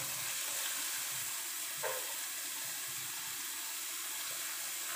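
White onion sautés in a pan with a soft, low, constant hiss of frying, faint and even, with one small stir or tap partway through.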